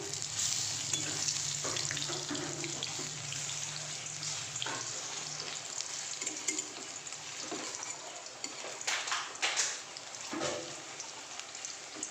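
Onion fritters (peyaji) sizzle steadily in hot oil through the whole stretch, with a dense crackling hiss, occasional spatters and brief stirring clatters, close and moderately loud with no talk.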